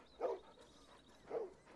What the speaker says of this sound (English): And all the dogs.